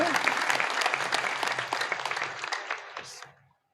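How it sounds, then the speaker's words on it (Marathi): Audience at a kirtan gathering claps in a dense, lively burst that fills the space, then thins out and fades away near the end. "एकदा टाळ्या वाजवा."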